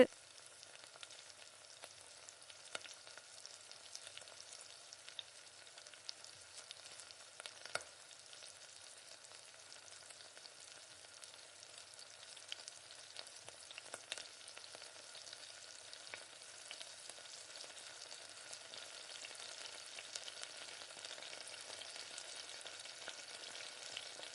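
Pakoda fritters frying in hot oil, a steady soft sizzle with occasional crackles and pops throughout, fairly faint and continuous with no talking.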